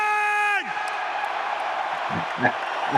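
A large stadium crowd at Tottenham roars and cheers in a sustained wash of noise, following a falling whistle-like tone at the start, with shouts rising near the end.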